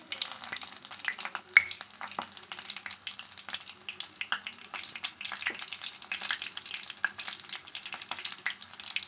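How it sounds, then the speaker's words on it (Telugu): Garlic crackles and sizzles in hot oil as a tempering for tomato dal. The frying sound is close and continuous, with sharp pops scattered through it and no voices. "ఫస్ట్ వెల్లుల్లిపాయ వేసుకోవాలి"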